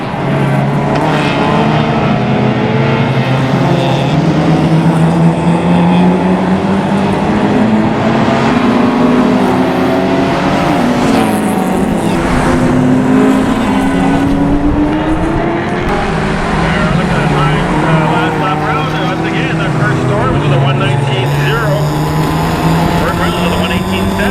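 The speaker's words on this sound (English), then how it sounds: "We see Norm Shaw heading through to turn two in that green Spec Miata" Spec Miata race cars at Mission Raceway roar past continuously, engines rising and falling in pitch through gear changes, loud and close, with a commentator talking over the engines throughout.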